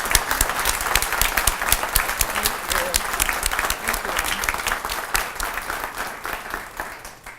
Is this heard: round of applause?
yes